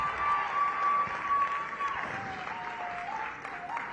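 Steady crowd applause at an outdoor ribbon-cutting for a retail village in Washington, D.C., a dense wash of clapping that carries throughout, with a voice faintly audible over it.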